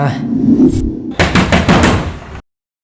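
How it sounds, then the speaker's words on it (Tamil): Someone knocks on a door in a rapid run of five or six loud, close raps after a stretch of voices, and silence follows. "எதுக்கடா இத்தனை தடவை கதவை தட்டுறா?"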